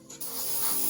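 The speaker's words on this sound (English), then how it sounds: "This is how I'm going to spray the wood on the Mark VII" Paint sprays in one steady, close hiss that starts after a brief pause, coating the wood decking of a Revell 1/72 Type VII C submarine model.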